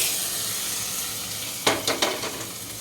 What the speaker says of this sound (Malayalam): എന്നിട്ട് നമ്മൾ പിന്നെ കടുക് വറുത്തത് ഇടും